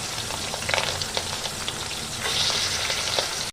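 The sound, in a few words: pangas fish frying in hot oil in a pan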